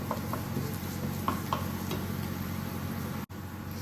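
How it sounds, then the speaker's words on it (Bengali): Cumin seeds frying in hot oil in a pan make a soft, steady sizzle with a few light stirring taps, fairly quiet and close, over a constant low background hum. "এটাকে এবার ভালো করে একটু ফ্রাই করে নিতে হবে"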